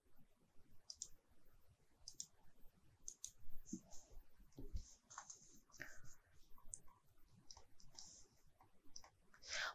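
Computer mouse clicks while working in RFEM 6 structural software, sharp separate clicks spread irregularly through quiet room noise, with a few soft keyboard taps.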